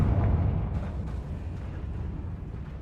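A spell blast from Hogwarts Legacy booms loudly up front, then settles into a rumbling, crackling decay that fades over a few seconds.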